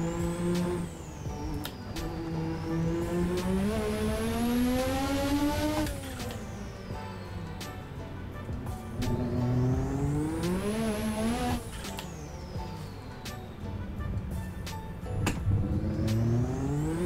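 Racing car engine in a video game at Monaco, loud and close, revving up through long rising sweeps with sharp gear-shift breaks and falling revs, two big climbs across the lap with tire noise underneath and no talk.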